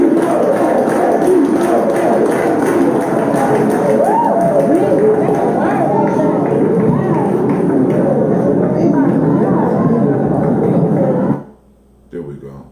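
A hyped crowd in a played video, a dense, steady roar of many voices that holds loud before cutting off abruptly near the end.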